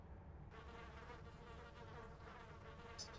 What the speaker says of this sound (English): Supposedly smoke will force wasps away from a nest.